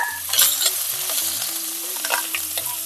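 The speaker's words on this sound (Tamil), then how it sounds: "கடுகு நல்லா பொரியட்டும்." Mustard seeds popping and spluttering in hot oil for a Hogenakkal-style fish curry, a close, continuous sizzle broken by sharp crackles, with some stirring and background music underneath.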